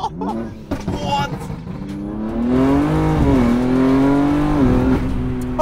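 A BMW M3 G80 fitted with an ADRO body kit pulls away and accelerates, its engine note rising and holding loud and close after a few brief knocks and noises at the start.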